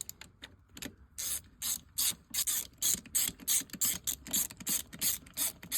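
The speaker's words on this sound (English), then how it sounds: "Now we're going to put on our oil pump now. 3/16 Allen." Brisk ratcheting from a 3/16 Allen socket driving in the oil pump bolts on a Yamaha YZ426 big-bore engine, about a dozen quick close clicking bursts in a steady rhythm with no talk.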